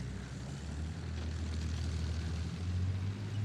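A photo reconnaissance aircraft makes another overflight, a steady low propeller-engine drone that holds throughout and swells slightly toward the end, with no voices.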